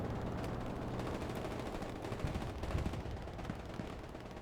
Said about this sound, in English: Strafing run thins them out a little bit